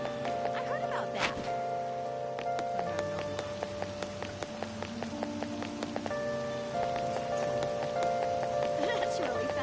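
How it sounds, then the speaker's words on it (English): Steady rain patters in the game Persona 5 Royal under sustained tonal background music, with scattered drop-like ticks and no talking. "I don't like all this rain"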